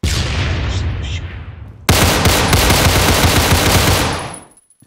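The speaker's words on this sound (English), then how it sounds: "that was just me shooting." Loud rapid automatic gunfire from the video game Phantom Forces, a dense burst that starts abruptly partway in and continues for a couple of seconds before cutting off, preceded by quieter game noise.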